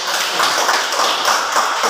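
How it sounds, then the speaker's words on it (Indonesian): Dense, steady applause from a classroom of students clapping for a presenting group, loud and continuous with no pauses and no talk over it. "tepuk tangan untuk kelompoknya"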